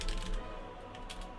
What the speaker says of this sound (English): Good typing, Mike.